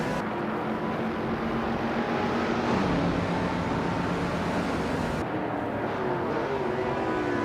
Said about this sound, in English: Stanley Banham is driving a 1965 Lamborghini 400G